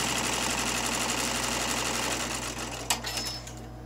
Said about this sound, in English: the first step is going to stitch a little box around the perimeter of the design